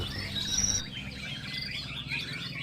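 A white-rumped shama sings with bright chirps and whistled phrases, fairly faint over a low steady background hum.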